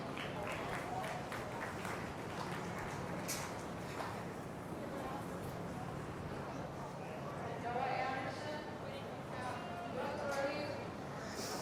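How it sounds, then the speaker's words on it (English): Applause from an audience at a 2019 goat show, a dense, steady patter of many hands clapping that continues throughout with crowd noise and some voices mixed in. "So let's give these exhibitors a round of applause."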